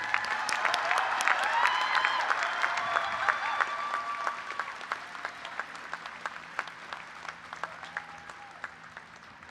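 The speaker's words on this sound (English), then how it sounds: "Let's give a cheer for John Crane." An audience at a university honors convocation applauds, dense clapping and a few cheers swelling at first and then thinning into scattered, distinct claps.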